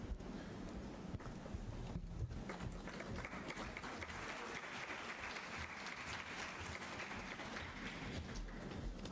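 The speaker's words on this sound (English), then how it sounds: "Let's give a big round of applause to our winners again" Audience applause for award winners at a World Tourism Day celebration in 2024 fills the hall, a dense, steady wash of many hands clapping that carries on without a break.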